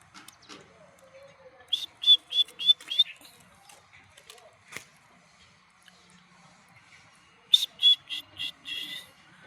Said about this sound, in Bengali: তো অনেক কিচিরমিচির করতেছিল।